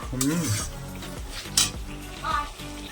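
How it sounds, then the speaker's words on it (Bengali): Spice masala stir-fried in a pan, with a few scraping stirs and utensil clinks over low sizzling, close and moderately loud; background voices and household noise are faintly mixed in. "তারপরে মশলা কষানো হচ্ছে এখন।"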